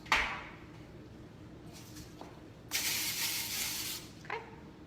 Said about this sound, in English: Do a little quick spray.